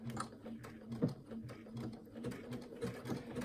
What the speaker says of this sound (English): it's sewing the bar tack back and forth